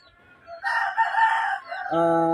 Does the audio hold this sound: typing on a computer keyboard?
no